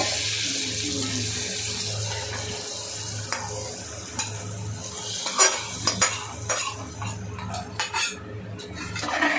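Boiled rajma with potato being stirred in a pot, with a low steady bubbling bed under clear, irregular scrapes and metal clinks from the spoon that grow busier toward the end, close and moderately loud, no talk.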